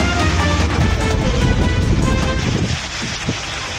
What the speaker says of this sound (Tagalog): Pagbukang liwayway kanina, nagsimulang bumuhos ang malakas na ulan sa Gonzaga, Cagayan.